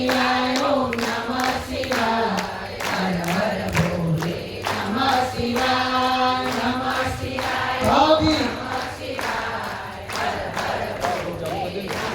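Rhythmic hand clapping from a group of women in a devotional procession, steady and close, with singing voices and crowd noise mixed in throughout.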